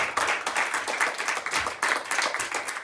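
A church congregation applauding and clapping loudly in praise, dense continuous claps with some rhythmic beats, near and sustained without talk.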